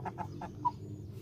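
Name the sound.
chickens clucking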